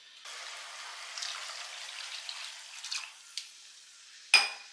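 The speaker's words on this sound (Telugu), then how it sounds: "అందుకోసం నేను ఇంకొంచెం నీళ్ళు యాడ్ చేస్తున్నాను." Water is poured into tamarind-based Sankara fish curry gravy, making a faint, steady splashing hiss that ends with a small splash.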